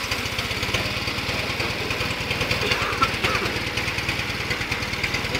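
Fiat 500 engine, running warm with the choke off after starting on the first turn without throttle, a small engine idling with a fast, even putter and steady knocking pulses throughout.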